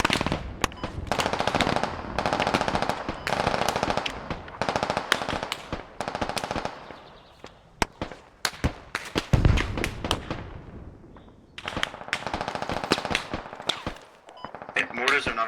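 Mortar impacts and bursts of machine-gun fire sound in a military squad video game, coming in rapid clusters with pauses and a heavy thump midway, while players talk over the combat.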